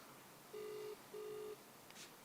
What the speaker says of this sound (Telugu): ఫోన్ కాలింగ్ అని పడ్డది